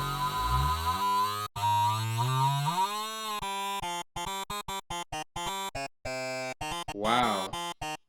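Granular synthesis of a dropped-in sample played from a keyboard synth with a small grain size: dense, shifting harmonic tones that glide and then break into rapid choppy stuttering bursts and gaps, moderately loud and with no voices.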